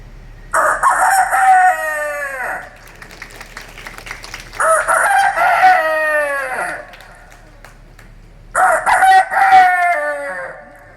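A rooster crows three times, each call loud and close, separated by short pauses with faint background quiet.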